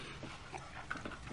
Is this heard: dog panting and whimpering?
yes